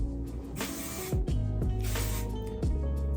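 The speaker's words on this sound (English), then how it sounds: "I'm just gonna spray a little bit of that on all over, underneath too." Several short hissing bursts of texturizing hair spray, close and loud, coming in a quick uneven rhythm with brief pauses between.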